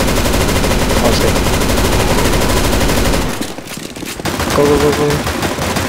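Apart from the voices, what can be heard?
gunfire in CS:GO Zombies video game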